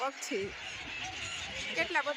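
Short honking and clucking bird calls, several in quick succession, fairly close, at a river ghat with receded water, over a faint background murmur.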